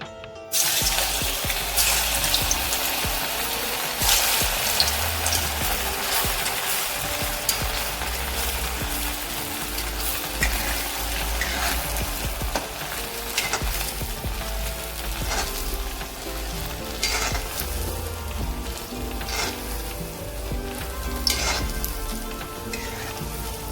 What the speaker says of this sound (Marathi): तेल तापलेलं आहे। तर आपण हे पकोडे तळून घेऊया